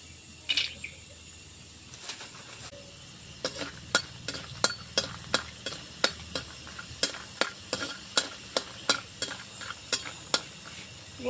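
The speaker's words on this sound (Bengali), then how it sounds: "বড়িগুলো আমার ভাজা হয়ে গেছে।" Lentil dumplings (bori) fry in white oil in a pan for a gourd-greens dish, a soft continuous sizzle punctuated by a regular series of sharp spatula scrapes and taps against the pan, close and fairly quiet.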